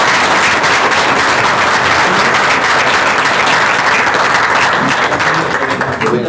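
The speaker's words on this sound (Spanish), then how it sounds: "Démosle un aplauso a Javier por..." An audience at a Spanish-language talk on fighting collusion applauds, a dense, steady roar of clapping from many hands that stays loud throughout.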